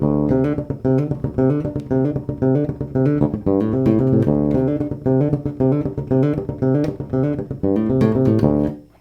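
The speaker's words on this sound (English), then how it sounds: "that funky wah wah wacka wacka sound" Funky wah-wah bass line, a continuous rhythmic groove of choppy, percussive muted notes with ghost-note accents, loud and close, played alone without any voices.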